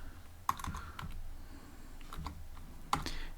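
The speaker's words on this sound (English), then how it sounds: "I'll type here def connect" Python code being typed on a computer keyboard: sparse, irregular key clicks with a few sharper taps, close and quiet.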